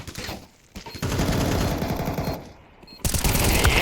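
Counter-Strike gunfire from a competitive match, a rapid automatic burst followed by a brief lull and then another sharp volley, close and loud.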